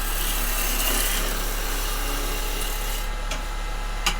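A log spins on a wood lathe while the gouge roughs it down and throws off continuous shavings. It makes a steady, loud, close scraping hiss that stays even throughout, with a couple of brief sharper catches near the end and no talking.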